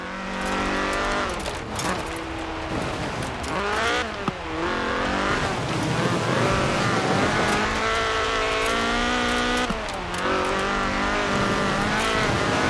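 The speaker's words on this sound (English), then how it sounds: "This was a car designed explicitly for rallying, with a powerful fuel-injected 1790cc Cosworth BDE engine" A Ford RS 1800 rally car with a fuel-injected 1790cc Cosworth BDE engine races in Forza Horizon 4. Its engine revs hard and climbs through repeated gear changes, with tire squeal, loud and close throughout.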